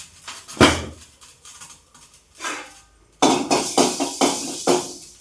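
A clay cooking pot being lifted out and set down for roasting fenugreek, with several sharp clanks and knocks, a quiet gap, then a quick series of close clattering hits.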